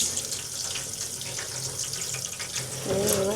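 Tap water pouring over a cyanotype print laid on pebbles, a continuous soft splashing and hissing stream that stays steady and fairly quiet throughout, with no voices.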